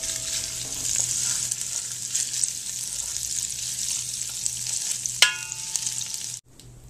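Small chunks of chorizo sizzle steadily in a pan, a bright continuous frying hiss with a steady low hum beneath and a sharp utensil clack near the end before it cuts off.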